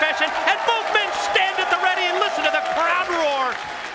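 Arena crowd at a professional wrestling pay-per-view roaring and applauding as two wrestlers stand ready, loud cheering and clapping with whoops, with a commentator talking over it.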